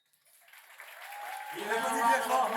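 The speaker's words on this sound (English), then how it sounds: "Il applaudit bien fort, merci." Applause from an audience after a runway fashion show, beginning faintly and swelling into fuller, louder clapping with a tonal sound underneath as it builds.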